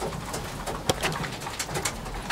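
Young pigeons coo while feeding inside a loft, with soft repeated coos and a sharp flutter or peck standing out among steady rustling and shuffling close by.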